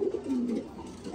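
Lambadi tournament flying pigeons coo in a short, low, rounded burst, close by and moderately loud with no talking.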